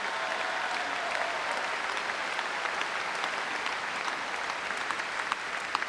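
Sustained applause from a gymnasium crowd for the Santa Clara women's volleyball team after a match against Hawaii, a broad, even roar of clapping held at a fairly distant level throughout.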